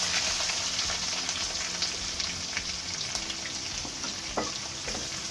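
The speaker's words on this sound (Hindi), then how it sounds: "अब हम इसमें ज़ीरा और राई डाल रहे हैं" Cumin and mustard seeds sizzling and crackling steadily in hot oil in a kadai, a dense continuous fry with a few sharper pops, close and fairly loud.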